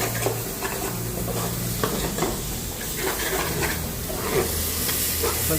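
Tomatoes and ginger garlic paste frying in a pan ahead of country chicken curry, a continuous close sizzle with stirring scrapes and light pan knocks, no talking.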